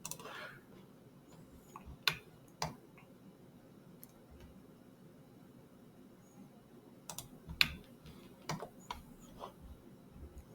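A computer mouse clicks during AutoCAD 2023 drafting, quiet, sharp, scattered clicks, some in quick pairs, over a faint room hush.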